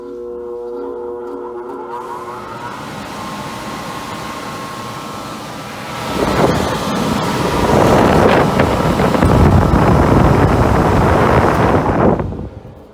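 A Carrier gas furnace blower fan motor, suspected weak or failing, running indoors: a steady humming drone at first, then swelling after a few seconds into a loud, broad rushing of air that holds steady before cutting off.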